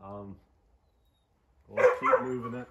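A dog barks in a short burst close by, following a brief earlier yelp, while someone talks during work removing the cab from a 1951 GMC 100 pickup for an S10 conversion.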